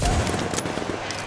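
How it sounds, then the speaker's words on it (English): Rapid turret gunfire in The Division rattles out as a quick burst of close, repeated shots that fade over a second with little pause between them. "Turret there, so careful."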